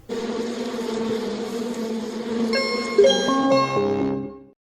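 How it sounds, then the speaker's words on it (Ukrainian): Bees make a steady, droning buzz in nature that continues throughout at a moderate level, with no talk, while a soft musical tone rises over the hum toward the end before both fade out. "А цей шум видають бджоли."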